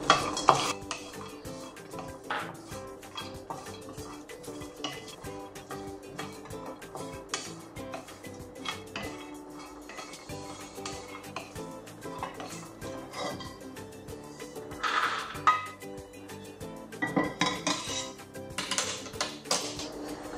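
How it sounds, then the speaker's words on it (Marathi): Pistachios roasting in a pan, stirred with a spoon that scrapes and clinks against the metal in steady rhythm, with louder clattering bursts now and then; no talk. "आता आपण पिस्ते भाजून घेऊ"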